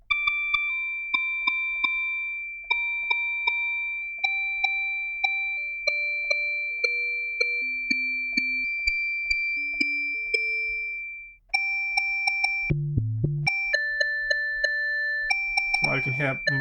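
Three-operator FM synthesis patch on an Empress Zoia pedal plays a melodic sequence of bell-like electronic tones, each note sharply struck and decaying, with a sustained high tone beneath; a buzzier, noisier timbre enters near the end.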